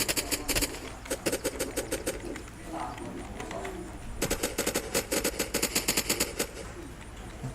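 Automatic gunfire from the video game Unturned sounds in two rapid bursts of sharp repeated shots, one short and one longer, with quieter game ambience between them.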